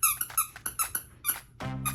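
A dog's squeaky toy gives a quick run of sharp, high squeaks in an uneven rhythm, close and clear, ending with a longer, lower drawn-out squeal.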